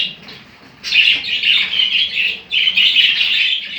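Bright, rapid pet canary chirping indoors in two long bursts with a short pause between, close and clear, with no talking.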